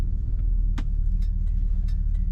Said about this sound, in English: Today we're driving a 1968 Ford Galaxie 500.